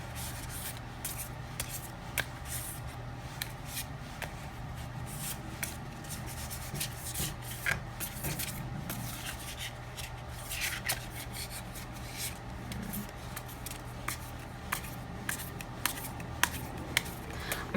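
Tarot cards being shuffled by hand during a reading, soft rubbing and riffling with scattered sharp flicks and taps over a quiet, steady background hum, close and faint.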